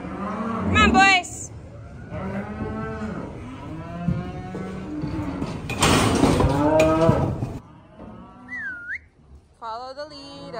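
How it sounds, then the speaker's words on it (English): Placement heifers being loaded out low and bellow repeatedly, loud and close, with long drawn moos overlapping, a sharp whistle, metallic gate or chute clatter, and a person calling out amid the herd. "The placement heifers are excited."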